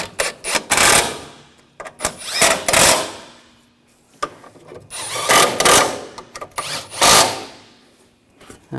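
A power tool whirs in short bursts, tightening fasteners on a 2007-2013 BMW X5 3.0L L6 during AC condenser replacement; several loud, close runs of a second or so with pauses between.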